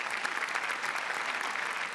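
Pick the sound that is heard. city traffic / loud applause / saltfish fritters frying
loud applause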